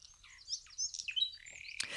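Birds chirp outdoors in quick, high twittering calls that overlap one another, fairly close and clear, with a brief louder rustle near the end.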